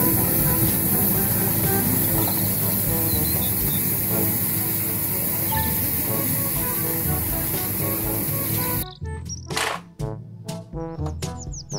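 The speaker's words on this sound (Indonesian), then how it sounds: "Mobil truk pembersih jalan." A toy street sweeper truck gives off a continuous loud hissing spray with mechanical whirring for about nine seconds, followed by scattered clicks and knocks as it stops.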